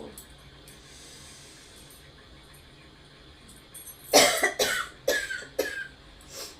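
Several short, harsh coughs burst out close by in quick succession after a few seconds of quiet room hiss, from a person with a cold and a cough.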